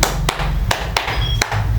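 Hands clapping in a counting clap game during a classroom microteaching session, four sharp separate claps spaced irregularly over a steady low hum, close and fairly loud with no talking.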